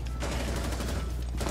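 Rapid automatic gunfire in the shooter game Rainbow Six Siege, a dense, continuous burst of close, loud shots lasting the whole moment, with a heavier blast at the end.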